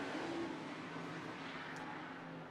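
IMCA modified race car pulling away during a 20-lap main event at USA Raceway, a steady engine drone with a faint whine, fairly distant and continuous.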